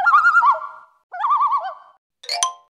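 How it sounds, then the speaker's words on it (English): Owl hoots sound clearly in three separate calls, two long wavering tones and a shorter sharp final call, close and loud with silence between them. "The owl."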